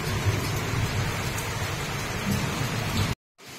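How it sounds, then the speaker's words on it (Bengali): Steady rain pours on a dark night during a power cut, a dense, even hiss of drops on surfaces that runs without pause and cuts out abruptly near the end before a brief return. "দেখো বৃষ্টি পড়ছে"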